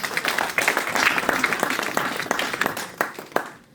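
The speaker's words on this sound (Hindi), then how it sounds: "सब ताली बजा सकते हैं" A seminar audience clapping at a business event in Hyderabad, a short burst of moderate applause with distinct individual claps standing out near the end as it tapers off.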